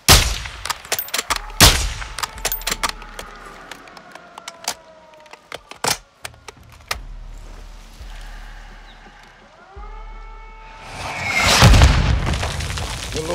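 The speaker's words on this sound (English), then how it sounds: "Launching mortars" Mortar blasts and gunfire in Call of Duty Modern Warfare II: sharp cracks and booms scattered throughout, with a rising whoosh and a big, loud explosion near the end.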